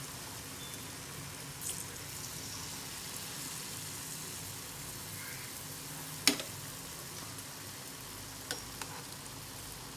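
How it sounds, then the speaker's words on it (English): MTR instant vada batter sizzles steadily in hot oil as medu vadas fry, a dense continuous crackling hiss with a couple of faint clicks and pops, no voices. "dropping the batter into the oil and letting it fry"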